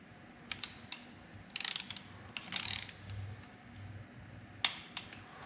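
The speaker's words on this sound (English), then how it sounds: "we also torqued the spark plugs to 10 Newton meters" Ratcheting mechanical clicks from a torque wrench tightening spark plugs on a liquid-cooled BMW R1200RT motorcycle, heard as a few quiet, close, irregular bursts and single clicks against a low background hum.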